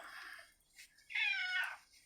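A cat meows twice, a short faint call followed by a longer, louder drawn-out meow up close, with no talking.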